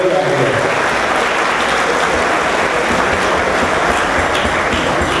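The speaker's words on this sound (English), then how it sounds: "Give them a big round of applause." Dense audience applause at a live variety show, loud and continuous throughout with no break, crowd noise filling the whole moment.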